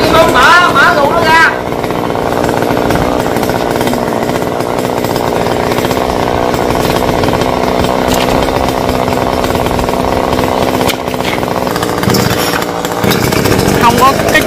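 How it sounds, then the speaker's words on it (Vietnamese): A chainsaw cuts branches from a rain tree, running loud and continuous at close range for the whole stretch. Its steady engine roar barely varies, and voices are faintly audible beneath it. "ba của Hoa cầm máy cưa và cột dây luôn."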